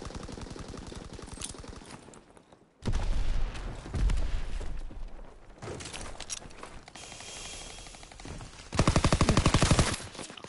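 Dense bursts of rapid automatic gunfire and single shots crackle in a Call of Duty WW2 multiplayer battle, loud and near, with a brief silent gap before the firing resumes and grows heavier toward the end.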